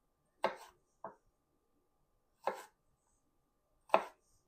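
Raw onion chopped on a cutting board for a taco salad, four separate knife thuds spaced over a few seconds with silence between them, close and clear.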